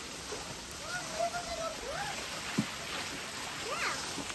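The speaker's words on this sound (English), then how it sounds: "That's the brook running through this little village." A small brook flows past a working water wheel in a little village, a steady close rush and splash running throughout, with faint voices and bird calls over it.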